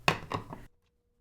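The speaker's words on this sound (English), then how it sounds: "Then I'm going to stamp some leaves and the stem in our old olive." Three quick dull thumps of a rubber stamp pressing leaf and stem images onto a handmade card, close and distinct, followed by silence.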